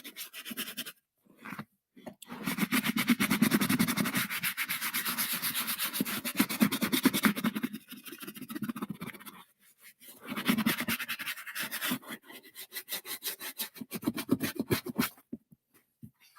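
Cowboy boots scrubbed with a brush and thick soapy suds, a steady close-up rubbing and swishing in long bursts separated by short pauses, with no talking.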